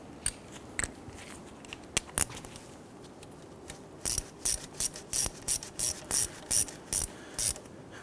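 A ratchet snugs down a 10 mm bolt holding a rear ABS wheel speed sensor on a 2006-2014 Honda Ridgeline, with a few scattered clicks first, then a steady run of sharp, close ratcheting bursts in even rhythm.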